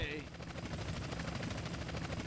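A police helicopter in GTA San Andreas roars steadily and loudly with a dense, continuous rotor drone, chasing the player from close by throughout.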